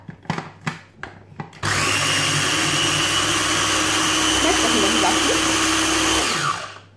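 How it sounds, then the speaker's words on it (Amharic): Electric blender grinding butter: a few short knocks, then the motor starts up and whirs loudly and steadily for about five seconds before winding down. "ይፈጫል፣ ቅቤው ይፈጫል።"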